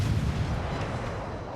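Deep booming ship gun fire from World of Warships, a Tier 4 Clemson destroyer engaging an enemy cruiser, heard as a rumbling, fairly faint continuous roll of low blasts.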